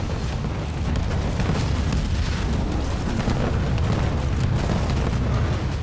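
A sustained roar of heavy booms and Siege Cannon blasts in Halo Wars 2 rolls on for several seconds, loud and continuous, with no speech.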